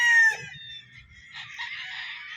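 White Kelso chickens on a Philippine farm, with crowing and clucking fowl close by in the opening moment, then a softer, busier mix of bird calls continuing throughout.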